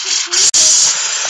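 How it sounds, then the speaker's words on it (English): A bottle of Ambrosia cracked open, letting out a loud, steady fizzing hiss that runs the whole time, broken by one sharp instant of near-silence partway through, with a little background voice. "popping my bottle of Ambrosia so y'all can see how lively it is."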